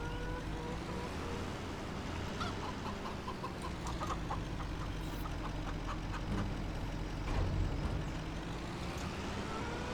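Chickens cluck in a farm pen in the video game Farming Simulator 25. Short, soft clucks come in scattered bursts over the steady drone of an idling truck engine nearby.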